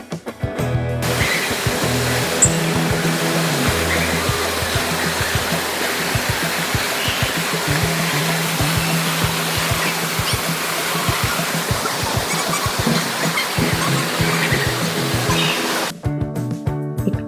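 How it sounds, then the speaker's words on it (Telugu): Water splashes continuously at a swimming pool in Singapore, a loud, steady rushing wash that fills nearly the whole stretch before cutting off near the end. "వాటర్ చల్లుతున్నాయి కదా"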